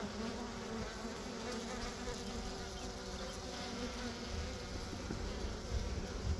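Bees or wasps from a swarm fight and sting each other, a dense continuous buzzing drone that stays close and steady throughout with no speech.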